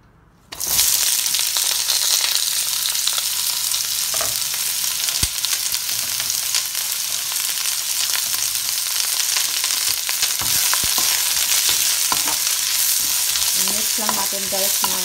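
Onions, ginger and garlic sauté in a hot pan with a loud, steady sizzle, broken by scraping stirs of a spatula and sharp pops that grow busier toward the end.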